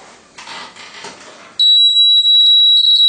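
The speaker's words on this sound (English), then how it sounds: "now I have connected the switch to the buzzer to my 9 volt battery." A brief rustle of handling, then a loud, piercing electronic buzzer door alarm powered by a 9-volt battery blares continuously, with slight flutters in its steady high pitch.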